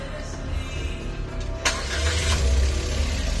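A Suzuki DA17W high-roof van cranks and fires up just after being reprogrammed with a scanner, the starter catching at once and settling into a steady, close rumbling idle that swells slightly as the engine runs.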